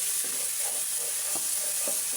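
Salan masala with turmeric for a fish curry fries in hot oil, a steady loud sizzle and hiss running throughout, broken by a few soft stirring scrapes.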